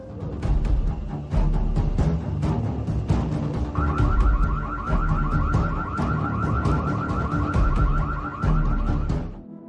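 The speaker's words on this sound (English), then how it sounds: "The doorbell camera then set off a loud alarm" A doorbell camera sounds a loud alarm as a thief searches an unlocked car in a driveway. A rapid, repeating electronic warble starts a few seconds in and keeps going steadily over a background of clatter and knocks.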